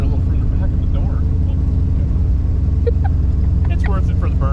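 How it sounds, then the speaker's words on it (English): A 1955 Chevy gasser doing a burnout: a loud, continuous low engine roar with tire noise that holds steady throughout, while people talk over it. "It's worth it for the burnout."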